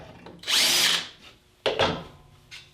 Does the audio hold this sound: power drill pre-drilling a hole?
yes